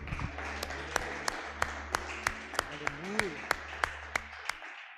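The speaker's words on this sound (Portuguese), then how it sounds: "Você pode aplaudir ao Senhor?" A church congregation claps for the Lord during a worship service, scattered hands forming a light applause with a few sharp, regular claps near the front, over a low hum and sustained organ-like tones before fading out.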